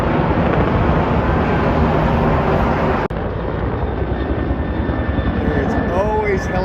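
Two helicopters fly overhead in Washington DC, their rotor and engine noise a loud, continuous drone that fills the whole clip, with a brief cut partway through.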